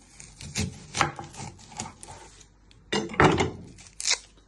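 A kitchen knife chops through an onion on a cutting board in a few sharp knocks, then a short cluster of firmer cuts after a pause, close and fairly quiet, with no talking.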